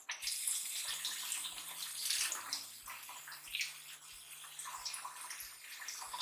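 Vegetables get washed under a steady flow of running tap water in a home kitchen, a continuous close splashing hiss with a faint low tone beneath.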